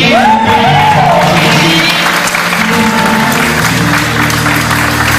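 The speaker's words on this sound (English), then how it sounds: "Let's give them a round of applause." A church audience applauds on Easter Sunday, a steady wash of clapping from a crowd with a few shouts, while a sustained tone holds underneath.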